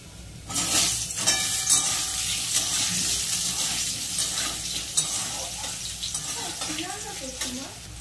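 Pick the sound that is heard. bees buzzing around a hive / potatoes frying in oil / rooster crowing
potatoes frying in oil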